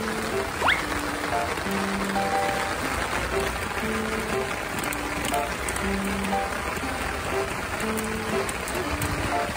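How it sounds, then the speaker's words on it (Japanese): Rain falls steadily on an outdoor rainy day, a constant soft patter with light drips, while a voice and faint tonal sounds come and go over it. "今日は雨だね。"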